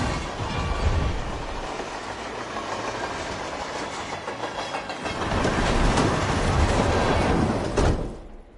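A train in the video game Hitman rumbles along steadily with rhythmic clickety-clack, swelling louder toward the end before cutting off abruptly.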